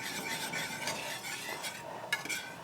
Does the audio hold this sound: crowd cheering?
no